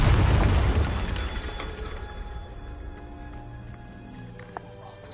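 A Bombarda explosion spell in the Hogwarts Legacy video game, a loud deep boom at the start that rumbles and decays over several seconds, followed by faint scattered debris clicks.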